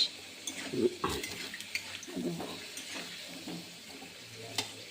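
Cauliflower curry cooking in a pan at home, with soft sizzling and the scrape and clink of a utensil stirring, close by and moderately quiet.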